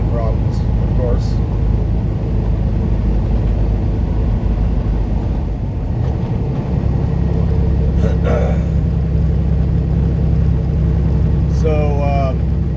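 A truck with transmission problems limps along a highway, giving a constant deep engine and road rumble from inside the cab. A few brief voice fragments surface over the drone.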